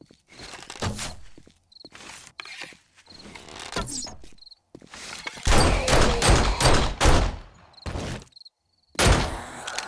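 Pistol gunfire in a zombie apocalypse video game comes as a series of sharp, loud bursts separated by brief silences, with heavier clustered shots in the middle and a final blast at the end.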